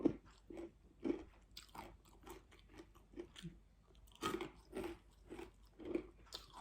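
A crunchy breakfast cereal softening in milk is bitten and chewed close to the mic, with repeated crisp crunches in a steady rhythm and no talking over them.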